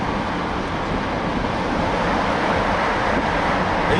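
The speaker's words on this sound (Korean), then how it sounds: "속도가 점점 높아지면서 바람 소리도 점점 커집니다." Dense, loud rush of wind buffeting around a Range Rover Evoque Convertible driving with its top open, mixed with low road roar, steady throughout with no voices.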